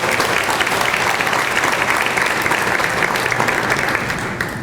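Sustained audience applause for sponsors at a Champions for Children charity event in 2016, loud and dense throughout before tapering slightly at the very end, with no talking over it.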